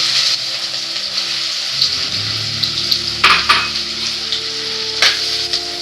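Two sliced onions dropped into hot sesame oil, a loud close sizzle that swells as they land, with a few spoon scrapes and clinks against the pan over the steady frying hiss.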